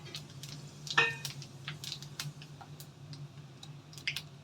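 Panch phoron spices with dried red chillies and a bay leaf fry in hot oil for a vegetarian khichuri, giving faint, sporadic crackles and pops over a low, steady background sizzle.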